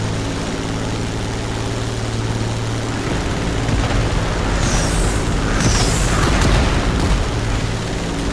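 A Supermarine Spitfire propeller plane drones steadily in The Crew Motorfest, its engine hum thickening midway as a heavier roar swells in, loud and continuous with no talking.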